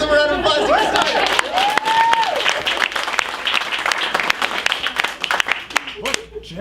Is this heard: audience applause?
yes